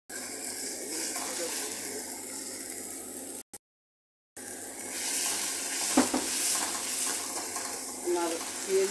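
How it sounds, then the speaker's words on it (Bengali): Onion and garlic fry in hot oil in a wok, a steady close sizzle broken by a brief silence, with stirring and a few clinks of utensils. "আমার পেঁয়াজ রসুন ভাজা হয়ে গেছে।"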